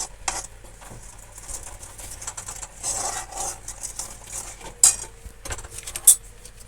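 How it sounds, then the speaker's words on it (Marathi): A spoon stirs and scrapes chicken coated in Malvani masala around a pan, with light clinks and patter and two sharp metallic taps near the end. No one speaks. "आम्ही मालवणी मसाला ॲड करतो आणि मग त्याला हलवायचं"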